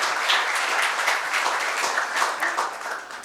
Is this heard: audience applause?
yes